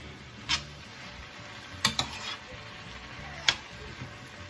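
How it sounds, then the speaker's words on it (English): Vegetables and tofu are stirred together in a hot pan. A steady sizzle runs throughout, broken by a few sharp utensil knocks and scrapes against the pan. "So now at this point, I will go ahead and I will mix everything together."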